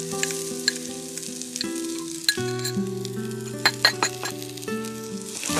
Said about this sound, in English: This is the time you can add in a bit of shallots